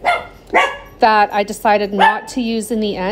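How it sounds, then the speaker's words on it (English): Pet dogs bark at things outside a window in a home crafting room, a few sharp barks up close followed by someone talking over further yapping. "Pardon my dogs. They figure they have to bark at everything they see out the window."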